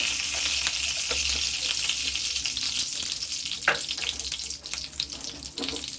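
Spices crackling in hot oil for a tempering on a gas stove, a continuous bright sizzle with scattered pops and a few utensil clicks, close up with no voices.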